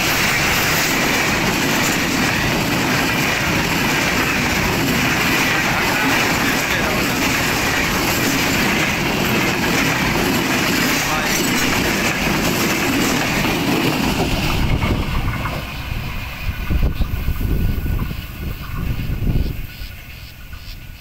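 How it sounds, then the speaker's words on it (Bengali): The Drutojan Express intercity train passes close by with a loud, sustained roar of wheels and carriages that fades after about fifteen seconds into rhythmic clickety-clack over the rails and quieter background. "এখন এটি দ্রুতযান এক্সপ্রেস নামেই যাচ্ছে।"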